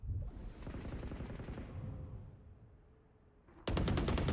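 Gunfire in a competitive shooter match: a steady stream of rapid shots, then a sudden louder close burst of fast rattling fire at the end, with no talk.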